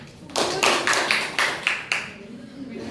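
A group of students in a classroom clap their hands in several sharp, close bursts at an even rhythm, with voices murmuring alongside.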